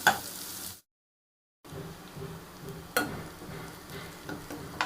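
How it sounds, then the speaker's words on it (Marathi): Onion fries until golden in a pan, a steady close sizzle broken by a brief silent gap, then resuming with sharp stirring clicks and scrapes; no one talks. "कांदा छान असं फ्राय करून घ्यायचा। कांदा नरम झाला पाहिजे, याच्यामध्ये सोनेरी कलर येईपर्यंत भाजून घ्यायचं।"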